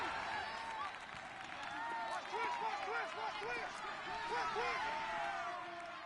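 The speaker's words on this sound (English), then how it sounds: "The crowd here in the Dome making things difficult." Stadium crowd inside a domed arena during a football game makes a loud, sustained roar with rising and falling cheers and whistles, a dense wash of noise throughout.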